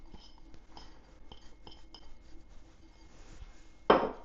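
Spoon clinking against a crockpot while shredded mozzarella is stirred in, a series of light, scattered metallic taps near the mic ending in one sharper knock.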